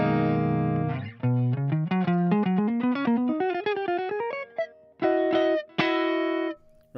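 Dry electric guitar with no effects, played as a run of single notes climbing steadily in pitch, then a few sustained chords with short gaps near the end; close, clean and moderately loud, with no voice.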